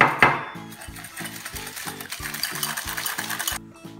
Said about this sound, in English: And using a spatula or a whisk, you just wanna mix those together.